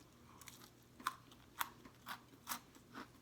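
Homemade funnel cake is chewed close up, with a series of soft crunchy bites and crackles spaced about half a second apart, quiet and alone.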